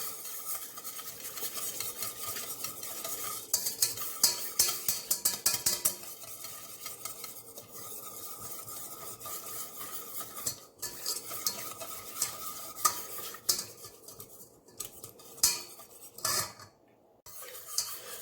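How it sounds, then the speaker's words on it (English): Spoon stirring three tablespoons of cornstarch into pineapple juice, a steady scraping and clinking of utensil against the container, close and continuous with a few sharper taps, no talking. "I'm just going to start dissolving that in with this juice"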